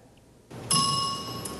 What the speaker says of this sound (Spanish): El timbre de la campana es el temor de los más de 500 estudiantes que viajaron a la capital estadounidense